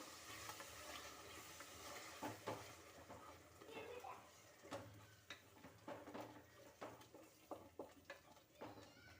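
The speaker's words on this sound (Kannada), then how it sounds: "ಇದು ಕೂಡ ಅಷ್ಟೇ ಒಂದೆರಡು ನಿಮಿಷ ಎಣ್ಣೆಯಲ್ಲಿ ಚೆನ್ನಾಗಿ ಫ್ರೈ ಆಗಬೇಕು" Tomato puree frying in hot oil in a pan for palak rice: a steady, close sizzle with repeated scraping and stirring strokes of a spoon, and occasional soft clinks from the cookware.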